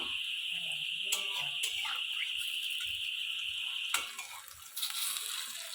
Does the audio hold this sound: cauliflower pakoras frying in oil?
yes